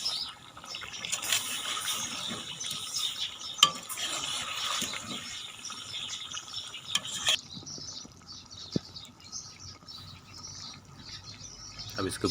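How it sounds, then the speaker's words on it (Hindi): Tandoori potato masala stirred with a spoon in a pan: faint continuous scraping and clinking of the spoon over a soft frying sizzle, with occasional sharper taps, close by. "चम्मच इसमें हिलाते रहें ताकि ये नीचे ना लगे।"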